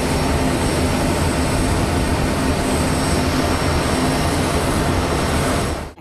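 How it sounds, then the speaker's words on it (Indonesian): A loud, steady roar of a low-flying aircraft with thumping rotor texture, continuous and close, cutting off abruptly at the end. "Di sini ada helikopter militer."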